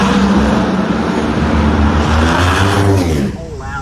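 Top Fuel dragster engine running at an NHRA drag race, a loud, steady roar that drops away near the end, with voices speaking over it.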